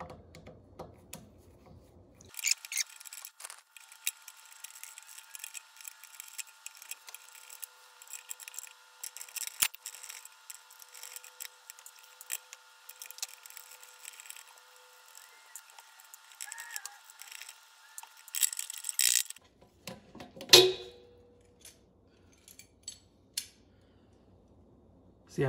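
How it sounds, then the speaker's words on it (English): Screws are removed from a Central Pneumatic air compressor pressure switch, giving faint, scattered metallic clicks and scratchy rubbing at close range over a quiet background. "Now let's just remove the four screws that hold this pressure switch into the housing."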